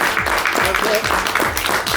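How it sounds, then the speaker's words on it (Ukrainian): An audience at a university anniversary concert and award ceremony applauds, rhythmic hall clapping with voices mixed in underneath. "Але оплески"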